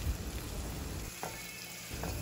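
Crushed garlic going into a pan of frying onions in a home kitchen, giving a steady close sizzle and hiss throughout with a couple of faint stirring scrapes.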